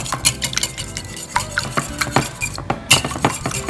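Bread pudding ingredients, including eggs, stirred together in a bowl: quick irregular clinks and scrapes of a utensil against the bowl, with wet sloshing mixed in, close and fairly loud with no talking.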